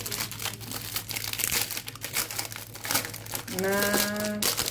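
Crinkling and rustling of a Gafar El Omda biscuit packet being torn open, close, crisp crackles that grow louder toward the end, joined briefly by a tonal squeak.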